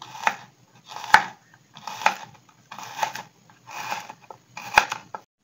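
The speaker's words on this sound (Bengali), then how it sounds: "এরপরে আমি গার্লিক ক্লোভটাও স্লাইস করে কেটে নিচ্ছি।" Knife slicing garlic cloves on a cutting board while ginger and paneer are prepped for paneer do pyaza: six crisp, close chopping bursts in a steady rhythm, each with a sharp board knock, separated by short pauses, with no talking.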